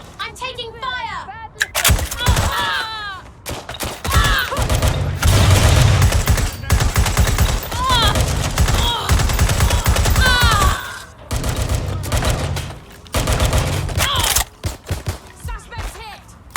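Heavy gunfire in a Watch Dogs Legion shootout: dense, overlapping bursts and volleys that run almost without pause, with shouted voices mixed in throughout.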